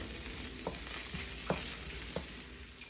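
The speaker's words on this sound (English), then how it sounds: "we're going in with our onion and garlic. Allow it to saute for about 2 minutes." Onion and garlic sauté in a pan with shrimp juices for a stir-fry noodle dish, giving a steady low sizzle broken by a few soft stirring scrapes and taps.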